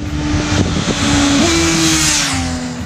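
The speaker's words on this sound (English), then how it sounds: "clutchless downshifts come with a wicked little auto blip on the throttle" A BMW S1000XR motorcycle engine hums close and loud, with a quick jump in pitch as the throttle blips automatically during a clutchless downshift, then settles into a steady drone.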